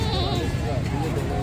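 Goat bleats at a livestock market in Lahore, a wavering cry rising over a busy background of voices and crowd noise.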